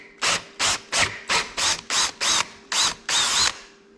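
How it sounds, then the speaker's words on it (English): A drill bit bores out a stripped thread for a Helicoil repair in about nine short, evenly spaced bursts, each a quick whirring pulse followed by a brief gap, close and clear. "all we're using is a drill bit that came with our kit"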